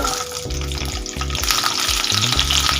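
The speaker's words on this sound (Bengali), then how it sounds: "তেলটা আমাদের গরম হয়ে গেছে এই তেলের মধ্যে সিমগুলো ভেজে নেব" Halved flat beans fry in hot oil, a loud steady sizzle close by with low rumbling and hum running underneath.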